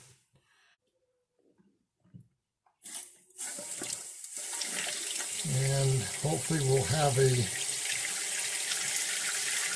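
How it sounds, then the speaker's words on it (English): Water supply turned back on to refill a Mansfield 210/211 toilet tank after a flush valve seal replacement: after a quiet start and a clunk, a steady rushing fill builds and continues, with someone speaking briefly early on. "And then we're going to go ahead and turn the water back on."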